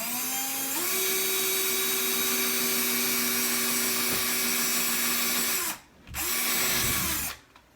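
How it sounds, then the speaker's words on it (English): A power drill bores pilot holes into wall studs while Ikea Bekvam shelves are mounted. Its steady, close whine runs for several seconds, cuts out briefly, then returns in a second burst before stopping. "So first we'll drill the pilot holes that go into the studs."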